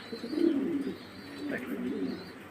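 Pigeons cooing close by in a few soft, low throaty rolls, with a faint chirp in the background.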